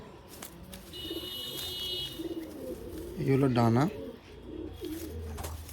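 A Fulshira pigeon at a home loft gives a single throaty, rolling coo lasting under a second, heard close by while someone talks over it.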